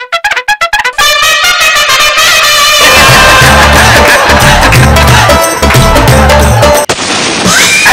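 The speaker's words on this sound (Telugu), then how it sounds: "మన దీపావళి తెచ్చిన బాంబులు కాల్చుకుందాం" Diwali firecrackers bursting: a quick run of sharp pops, then a loud sustained crackling and booming barrage that fills the air for several seconds before cutting off.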